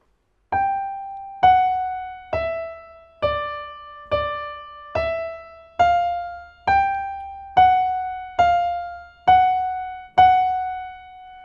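A piano plays a simple melody of single notes, struck one at a time at a steady, even pace, each note ringing briefly before the next.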